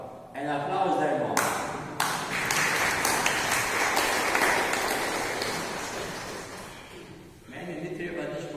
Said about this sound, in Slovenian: En aplavz dajmo.